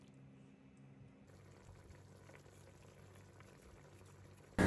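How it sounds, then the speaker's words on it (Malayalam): Hot water poured into a simmering chicken curry, a soft bubbling wash of liquid with low gurgles, quiet and steady, ending in a sudden loud burst. "കുറച്ച് ചൂടുവെള്ളം ചേർത്ത് കൊടുക്കാം."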